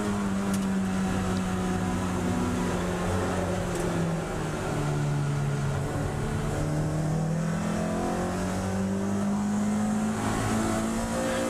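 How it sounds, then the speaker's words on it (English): BMW and Caterham race cars roar past on a circuit during a race, with continuous loud, close engine noise and rising and falling revs and pitch, with no talk. "Paul Bryden going roaring past in his BMW, and also the Caterham of Roddy Patterson."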